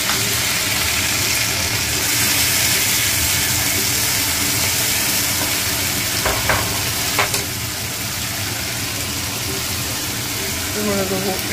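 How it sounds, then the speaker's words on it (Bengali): A paste of cumin, coriander and dried chilli fries in a pan with a steady, close sizzle, broken by a few scraping stirs near the end; no one talks over it. "তারপরে দেবো জিরে ধনে শুকনো লঙ্কার পেস্ট।"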